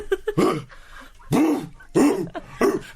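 A person imitates a dog's warm-up cough before barking, voicing several short, throaty cough-like bursts at close range with brief pauses between them.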